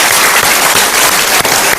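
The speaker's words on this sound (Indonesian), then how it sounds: "Kita berikan tepuk tangan untuk pilihan Anda, super audience." A short burst of loud, dense studio audience applause at a televised motivational talk show, many hands clapping close and steady with no talk over it.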